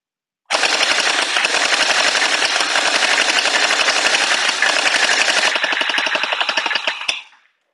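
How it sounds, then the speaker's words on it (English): A CAISSA G36 gel ball blaster with motorized magazines fires in one long, rapid, steady burst of loud, dense shots for about seven seconds, then cuts off sharply. No one speaks over it. "we'll go ahead and we'll shoot it"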